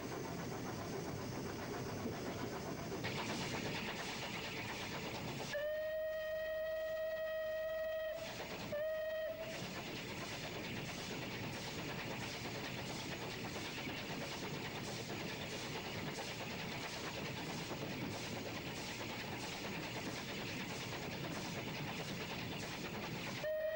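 Bulleid steam locomotive 257 Squadron works hard up a 1 in 76 gradient past Quor Farm Crossing, a steady loud chuffing roar with a sustained whistle blast partway through, no talking.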